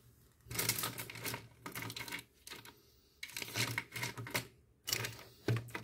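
A pen scratches out short notes on the back of a paper scrapbooking piece, quiet close bursts of scribbling separated by brief pauses.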